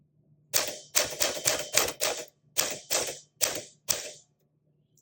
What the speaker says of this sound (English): This is the Smith Corona Silent Super